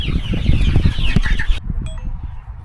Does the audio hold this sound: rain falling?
no